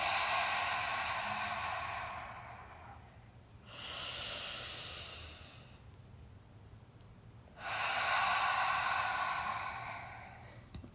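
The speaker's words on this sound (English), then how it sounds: "and releasing through the mouth" Slow, deep breaths released through the mouth in a guided meditation: long, airy whooshing exhales in separate waves with quiet pauses between them, heard up close with nobody speaking.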